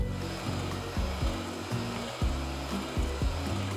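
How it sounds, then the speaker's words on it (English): Two egg whites are whipped in a bowl by a steady electric mixer, which drones continuously with rhythmic rises and dips as the beaters move through the whites. "To my bowl, I'm gonna be adding in 2 egg whites. And then we're gonna start whipping them."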